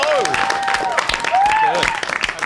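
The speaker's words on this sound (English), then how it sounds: "Please give them, again, another round of huge applause." Audience clapping after a live music performance at an evening show, a busy wash of claps under a few whoops and shouts, with a voice briefly sounding over the crowd.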